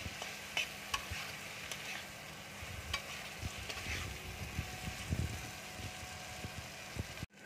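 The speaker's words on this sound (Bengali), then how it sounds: "এবার আমি চিংড়ি মাছটা দিয়ে দিচ্ছি। এবার মশলাটাকে ভালো করে কষে নেবো আমি।" Prawns and spice masala fry in a pan for taro-leaf curry, giving a steady low sizzle broken by scattered ticks and scrapes of stirring, with no voices.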